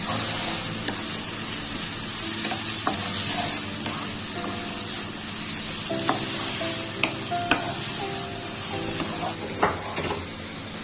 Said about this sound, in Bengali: এখন এর মধ্যে দিয়ে দেবো টমেটো কুচি। এটাকে আবারও আমি 2 মিনিট মতো ভেজে নেব।